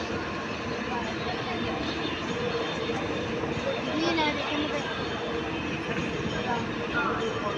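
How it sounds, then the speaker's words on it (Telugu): A train pulls into Bapatla railway station, a steady rumbling rattle of rolling carriages with faint squeals, while a voice talks over it at times. "బాపట్ల అయితే వచ్చింది ట్రైన్."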